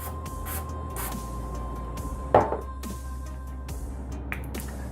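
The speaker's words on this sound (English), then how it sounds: "take a non-stick cooking spray" A short hiss of cooking spray from a can, heard once, close by against a quiet room hum with a few light clicks.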